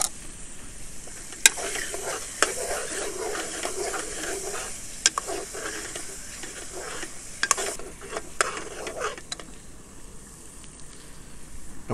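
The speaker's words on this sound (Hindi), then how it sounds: "टमाटर को ऑयल में अच्छी तरह भून लिया है" Beef and tomato fry in oil in a karahi for bhuna gosht, a steady close sizzle with scraping stirs and occasional sharp clicks of a utensil against the pan.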